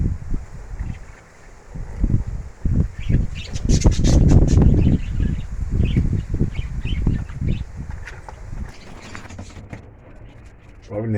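Young racing pigeons bathing in vinegar water, with irregular wing flapping and splashing bursts that peak midway, faint chirps, and wind buffeting the microphone outdoors.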